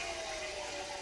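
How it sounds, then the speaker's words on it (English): A TM4 electric front-wheel-drive motor winds up under light throttle, giving a brief, steady mechanical whine with one sustained tone over a broad hiss. "If I just ease on the throttle, you hear the rotor wind up."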